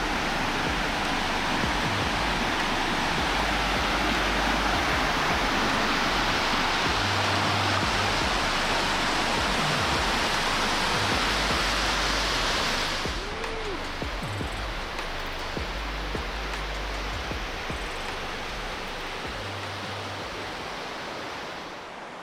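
Helton Creek Falls in North Georgia roars as a loud, steady broadband rush of falling water close by. The level dips slightly partway through and then holds constant.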